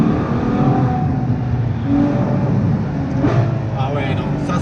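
Ferrari 812 V12 engine howling through hard downshifts on a road drive, loud and close inside the car, with someone talking over the engine roar.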